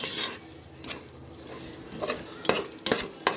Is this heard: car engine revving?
no